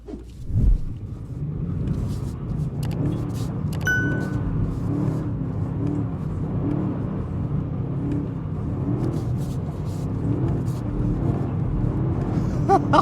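A 2025 BMW M5 in rear-wheel drive mode does donuts, its engine a steady close rumbling drone with a brief louder surge near the start and a short chime partway through.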